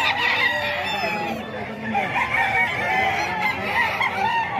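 Chickens and roosters at a Bocaue poultry market, a dense chorus of clucking and crowing layered over steady crowd noise, with talk in the background throughout.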